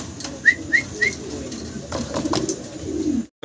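A pair of Lahori pigeons coos in a market setting, a few soft low calls over a busy background with chirpy whistles and brief voices nearby, ending in a short dropout.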